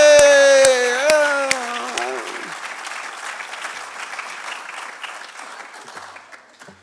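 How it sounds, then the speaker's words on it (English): An audience at a SUDtalks live event breaks into applause as a sustained tone cuts off, and the clapping then slowly thins and fades away. "Can we have a round of applause"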